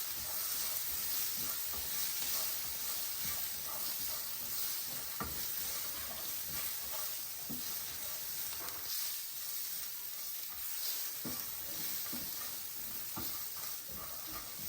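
Turmeric sizzling in hot oil in a pan while mango rice is cooked, a steady, fairly faint hiss and crackle with occasional soft knocks and stirring sounds, no talk.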